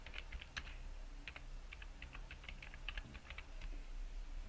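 Soft, close keystrokes on a computer keyboard patter in short irregular bursts as keywords are entered, over a steady low background hum.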